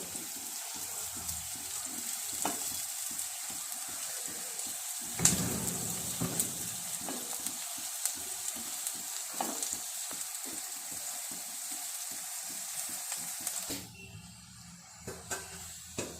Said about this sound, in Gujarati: ડુંગળીને સારી રીતે આપણે ફ્રાય કરીશું ડુંગળીનો કલર ચેન્જ થાય ત્યાં સુધી આપણે એને ફ્રાય કરવાની છે